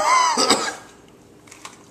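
A single harsh cough bursts out close up at the start, followed by quieter faint throat noises.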